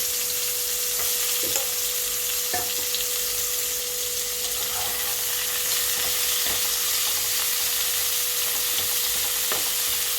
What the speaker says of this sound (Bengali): ভাজাটা আমি বসিয়ে দিলাম পটল ভাজা কাঁকরোল ভাজা করলা ভাজা